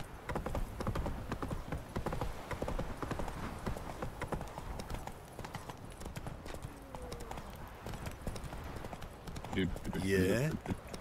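Horse hooves clip-clop steadily on the ground in The Witcher 3, with a whinny near the end, under someone talking casually.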